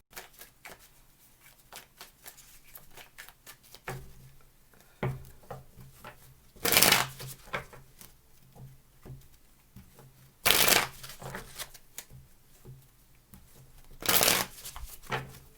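Tarot cards shuffled in bursts during a love reading, with soft riffling and tapping throughout and three loud, close riffle-bridge shuffles standing out at even intervals, no talking.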